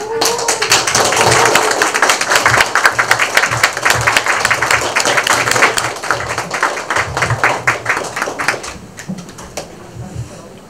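Audience applause at a lecture event, individual claps distinct and fairly close, rhythmic and scattered rather than a dense wash, with a low voice underneath, thinning out near the end.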